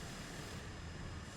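Cessna Grand Caravan single-engine turboprop in flight, a steady, loud broadband engine and airflow roar filling the cabin without pause or change.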